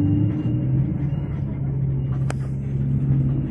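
An economy-class Primajasa bus cruises along a non-toll road toward Purwakarta, its engine a steady low rumble and drone heard from inside the cabin, with one brief sharp click partway through and no speech.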